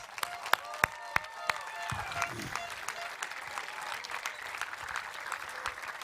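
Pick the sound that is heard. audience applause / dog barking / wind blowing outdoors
audience applause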